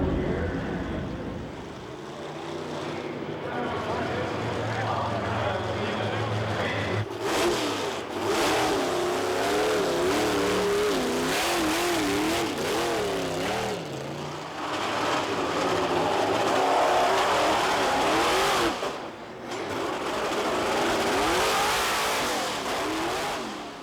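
Several monster truck engines rev loudly and continuously, rising and falling in waves of throttle, with rough low rumble throughout and brief dips in between.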